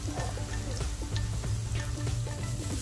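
Carrots tipped into a hot pan with onion sizzle and crackle steadily, with small clinks and stirring scrapes throughout, close and continuous.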